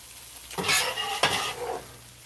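Sliced cheesesteak beef and onions tossed and stirred in a hot pan, loud sizzling with two sharp bursts of spatula scraping against the metal, close and without talk.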